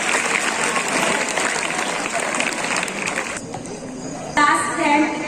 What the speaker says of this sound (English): Student, please clap.